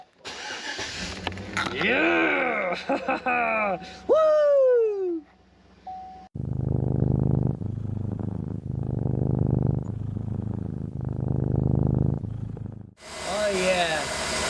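A V8 car engine, fresh from a spark plug swap, cranks and catches, then settles into a loud, steady idle with rhythmic pulses, revving briefly again at the end; excited voices cheer and talk over the start.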